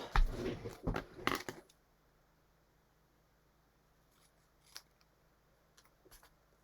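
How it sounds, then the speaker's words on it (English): Scissors cut through material in a quick cluster of loud, close snips, followed by a few fainter isolated snips after a quiet gap. "let's try it again and not cut it quite so angled"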